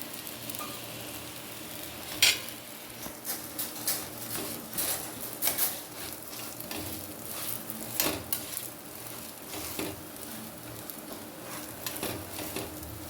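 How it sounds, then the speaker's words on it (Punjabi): A sweet poora fries on a tava griddle with a soft, continuous sizzle, broken by occasional scrapes and metallic clinks of a spatula against the pan, fairly quiet and without any voices. "ਪਹਿਲਾ ਪਹਿਲਾ ਪੂੜਾ ਆਪਾਂ ਪਾ ਦਿੱਤਾ ਹੈ ਤੇ ਤਵੇ ਤੇ"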